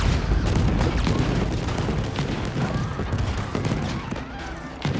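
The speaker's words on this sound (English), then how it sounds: "we managed to get some line of explosions" Dynamite explosions in Red Dead Redemption 2 rip off in a dense chain of loud booms and cracks, one after another for several seconds, with a few sharper blasts near the end.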